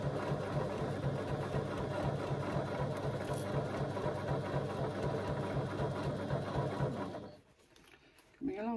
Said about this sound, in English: And then back stitching a couple of stitches to secure my threads.